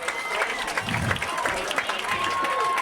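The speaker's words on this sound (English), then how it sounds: "So a big gasp by the crowd, thinking we've got something going" Stadium crowd noise at a high school football game, Yellow Jackets against Eagles, a broad steady roar of many voices with scattered claps and a rising collective reaction, no distinct speech standing out.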